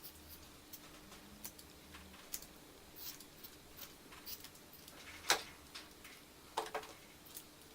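Small snips and light metallic ticks come from trimming the ends of a cut cat-food-can stove, faint and sporadic, with a couple of sharper clicks near the end.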